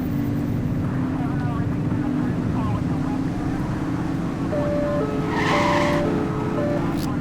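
A speeding car in The Precinct video game skids with a long tire squeal, its steady engine roar continuous and close throughout, with brief higher squeals and tones near the end.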